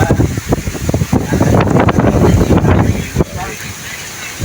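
Typhoon wind and rain batter a boat out at sea, roaring gusts buffeting the microphone in loud surges while someone speaks excitedly over the storm.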